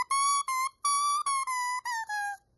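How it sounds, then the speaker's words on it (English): A bare oboe reed blown on its own gives a series of short, buzzy, squawking tones, bright and reedy, in a loose rhythm of separate notes with brief gaps, close and fairly quiet. "The reed is a remarkable contraption because by itself it sounds like this."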